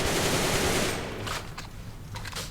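Toy gun from a Happy Snow set being fired from a seated position, a dense burst of rapid shots that fades into a few scattered pops, close and fairly loud.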